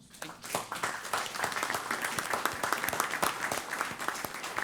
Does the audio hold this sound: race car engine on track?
no